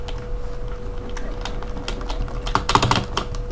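Close, irregular clicking of a lagging wireless computer keyboard being typed on during a PC game session, with uneven bursts of keystrokes and a denser flurry near the end over a low steady hum, with no talking.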